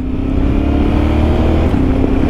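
A Yamaha R1 motorcycle engine cruising in sixth gear, with a quickshifter gear change, makes a steady, loud, close-up drone with a low hum throughout and no break in the sound.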